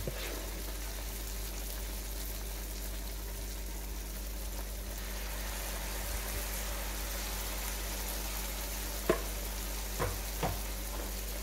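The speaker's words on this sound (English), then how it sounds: "We're gonna let it stay and fry on each side about 3 minutes each on each side." Jamaican-style sardine fritters sizzle in hot oil with a steady, even frying hiss, alone and fairly quiet, broken near the end by a few sharp pops and spits.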